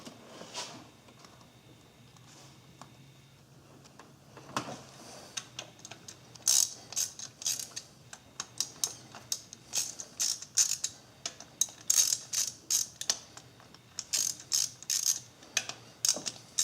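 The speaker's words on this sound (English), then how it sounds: "once you get the bolts loosened up, don't take them all the way out" Ratchet loosening the camshaft cap bolts on a Suzuki Forenza cylinder head. After a quiet start, sharp close clicking bursts repeat irregularly, each a quick ratcheting rattle, with no voices.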